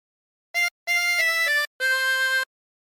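Harmonica playing a phrase of the song Ampar-ampar Pisang: a short opening note, then a longer run of several joined notes, a brief gap and a final sustained note, clear and close with no talking.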